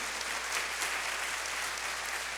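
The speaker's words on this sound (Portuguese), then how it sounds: "Você pode dar uma salva de palmas bem forte para Jesus?" A church congregation claps during a sermon, an even, sustained wash of many hands applauding at moderate volume, heard somewhat distantly with no voices on top.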